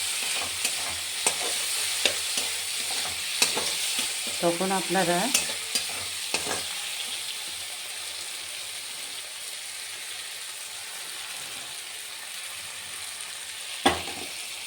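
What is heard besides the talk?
onions frying in a pan for fish curry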